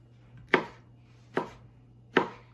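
A knife chops paella ingredients on a cutting board, three crisp, evenly spaced knocks close by over a faint steady hum, with no voices.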